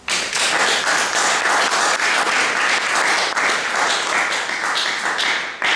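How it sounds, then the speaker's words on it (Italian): Audience applause at a book event in a library, with loud, dense, sustained clapping from a full room that runs unbroken for several seconds before stopping. "a cui chiedo di fare ancora un applauso"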